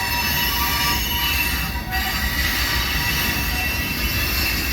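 A southbound freight manifest train passes close by with a GP-type locomotive at the rear, its wheels squealing steadily and loudly on the rails throughout.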